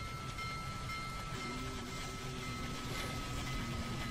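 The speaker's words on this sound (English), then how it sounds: "Just trying to get a good screenshot of the train rolling by." A train rolling by in a train simulator game, a continuous low rumble and wash of wheel noise with a faint steady tone, moderately distant and unbroken.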